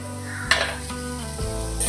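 Fish frying in a pan with ginger, garlic, salt, masala and pepper for sura puttu, a steady close sizzle with a sharp clink of the utensil partway through and the hiss swelling again near the end.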